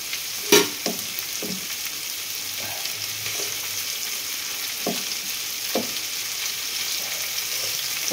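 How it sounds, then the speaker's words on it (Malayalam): Carrots and green chillies sautéing in a pan, a steady soft sizzle with a few sharp clanks and scrapes of a spoon stirring, close and without talk. "അത്യാവശ്യം ക്യാരറ്റും പച്ചമുളകും അത്യാവശ്യം നന്നായിട്ടൊന്ന് വാടി വരണം"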